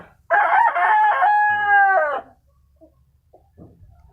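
A rooster crows once, loud and close, at a poultry pen with chickens. A few soft clucks and small sounds follow in the quiet afterward.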